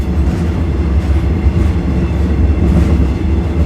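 Train crossing the Thai-Lao Friendship Bridge, heard from the rear of the train: a loud steady rumble of wheels on rails with a faint rhythmic clatter, continuous and close, with no voices.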